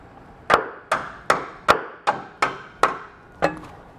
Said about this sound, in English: you may need a hammer to tap it into place.